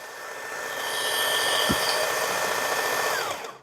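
A Work Sharp belt sharpener grinds a skinner knife in a steady, close, fairly loud whirring buzz with a thin high whine running throughout, tapering off at the end.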